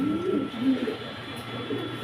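Low, murmuring coos from Giant Homer pigeons, a couple of soft rolling calls over a steady background hum.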